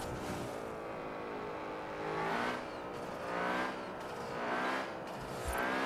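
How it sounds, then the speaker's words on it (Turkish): A BMW M5 accelerates hard through repeated rising engine sweeps as it climbs the gears, a loud, close in-car roar with no talk over it. "Abi inanılmaz hızlanıyor araç."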